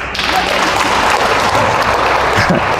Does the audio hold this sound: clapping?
yes